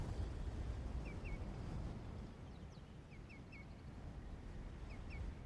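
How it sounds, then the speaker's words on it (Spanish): Thousands of geese give distant honking calls in short repeated pairs, echoing across Greenland fjords over a steady low rumble of wind and water. "Miles de gansos regresan, con sus cantos resonando en los fiordos"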